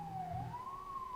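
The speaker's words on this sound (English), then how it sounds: "Sorry for the sirens." A wailing siren in New York City rises and falls steadily, loud and continuous, with a low engine rumble underneath.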